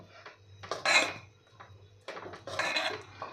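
Spoon scraping and clinking against a pot while bajra millet khichdi is mixed with plenty of fresh coriander, two short bursts of stirring that are close and fairly soft.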